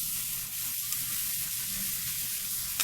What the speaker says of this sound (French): l'oignon va revenir dans la graisse du bacon